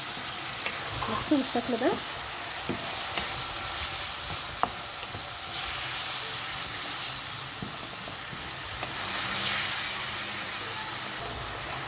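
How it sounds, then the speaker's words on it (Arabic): Sausage with vegetables, spices and tomatoes frying in a pan and being stirred, a steady sizzle with scraping strokes of the spoon throughout, and someone speaking briefly near the start. "هننزل دلوقتي بالطماطم بقى، ونقلب برده كويس قوي."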